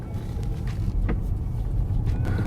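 A 2020 Tesla Model S driving on British country roads gives a steady low road rumble and tyre noise from inside the cabin, continuous and moderate, with a few faint brief clicks.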